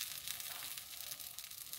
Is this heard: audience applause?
no